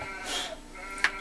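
A bighorn sheep in the hunting video game Cabela's Big Game Hunter bleats once, faint and brief, then a sharper short sound follows.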